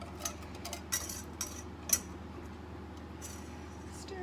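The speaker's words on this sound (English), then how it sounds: "you just want to get in and stir that" A spoon stirring custard mixture in a pot, with light metallic clinks and taps against the pot at an uneven rhythm, quiet over a steady low background hum.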